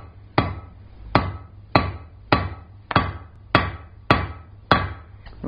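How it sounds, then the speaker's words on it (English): Hot metal is forged on an anvil, a hammer's corner face doing a double set down to shape a ball end coat and hat hook, ringing in eight sharp, evenly spaced strikes, loud and close with nothing else heard. "So with the corner face of your hammer and the corner of the anvil,"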